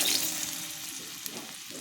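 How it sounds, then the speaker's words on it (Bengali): Potato pieces fry in hot oil with tempering spices in a pan, giving a soft, continuous sizzle and crackle, with no one speaking, for a couple of seconds. "আলুটা একটু ভেজে নিয়ে পটলটা দিয়ে দেবো।"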